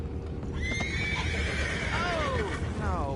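A horse in the video game Red Dead Redemption 2 neighs with a long, wavering whinny over a steady ambient backdrop, followed by a second rising call and faint hoofbeats.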